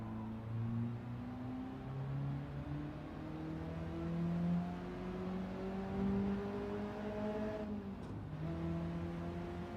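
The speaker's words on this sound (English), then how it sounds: "Is engine sound okay? Is it not too obnoxiously loud?" A race car engine in a racing video game such as GT7 or Forza Motorsport holds a sustained drone that climbs steadily in pitch through the gears, then briefly drops and rises again, at a fairly low level with no voices.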